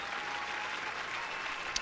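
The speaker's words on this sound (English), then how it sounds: "You deserve the fucking round of applause." A short round of applause from a crowd, a dense and even patter of clapping that holds steady throughout.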